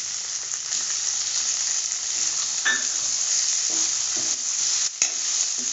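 Large tomato pieces roast in a pan for sabudana khichdi, giving a steady close sizzle with occasional scrapes and taps of a spoon and no talk.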